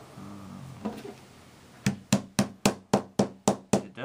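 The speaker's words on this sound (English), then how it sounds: "work with the hammer. Pretty light tapping." About nine light, evenly spaced hammer taps ring out on soft metal while building a psalmodikon, after a quiet start, close and clear.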